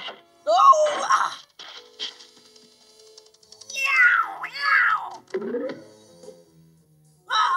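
Cartoon cat from The Smurfs yowling and meowing in bursts during a chase, with loud strained cries rising and falling alongside other voices and scuffling.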